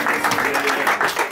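Audience clapping at a gig at The Tin Shed during the Laugharne Weekend fringe festival, brisk close applause with people talking over it.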